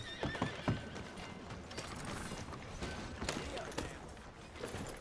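A horse whinnies and hooves clip-clop in quick bursts in Red Dead Redemption 2, fairly close, amid creaking and mechanical clatter, all at a low level.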